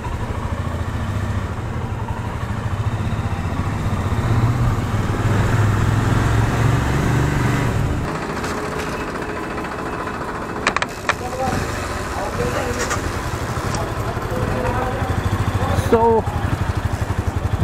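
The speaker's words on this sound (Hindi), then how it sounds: "फर्स्ट टाइम मैं सैडल बैग्स के साथ बाइक चला रहा हूँ" A motorcycle laden with heavy saddle bags rides along a highway near Baroda, its engine a steady low drone through wind rush that lightens partway through.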